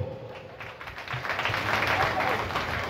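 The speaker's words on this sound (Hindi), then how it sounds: "आपण मान बहुमूल्य मतामत को करताली माध्यम रे जणांतो" Spectators at an Odia jatra theatre performance by Sibani Gananatya in Sompur break into applause that swells from a quiet start into a full, steady wash of clapping.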